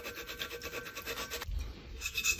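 Scrubbing loosened paint off a Yeti tumbler coated in Citristrip: rhythmic, close rubbing strokes, with a brief pause before the scrubbing picks up again.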